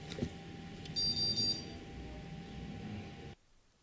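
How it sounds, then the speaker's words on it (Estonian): Edison educational robot gives a short electronic beep when its infrared sensor detects an obstacle, a bright tonal chirp of about half a second over a soft background hum, with no talk. "Paneme lihtsalt tooteploki, mis ootab, kuni Edison näeb takistust ja siis teeb piiksu."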